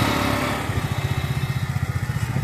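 A Royal Enfield motorcycle is being ridden, its engine thumping in a steady, fast rhythmic pulse. The sound is close and prominent, with no talking.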